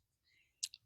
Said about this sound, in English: So we'll come here and cut that one off and get it out of the way for one thing.